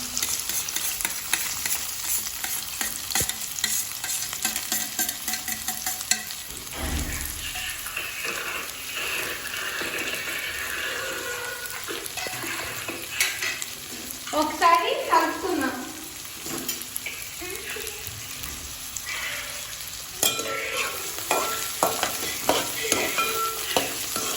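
Onions and green chilies sautéing in hot oil: a continuous close sizzle with repeated scraping and stirring strokes, a few knocks, and a brief splash of water partway through.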